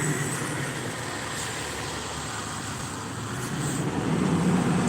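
Heavy road traffic, trucks among it, rolls past on a salted, snowy street, a steady broadband rumble that swells slightly louder toward the end, with no talk.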